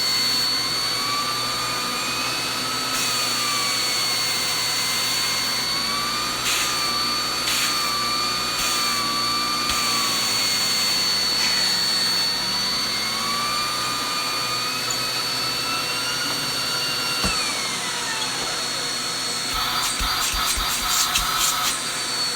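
A reconditioned canister vacuum cleaner without HEPA filtration runs continuously at close range, a steady loud whine and airy roar with slight shifts in pitch as the suction is adjusted, and no talking.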